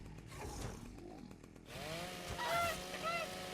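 A chainsaw in the video game ARK starts up and revs, an uneven buzzing whine that rises in pitch in bursts, loud and close, with no voices over it.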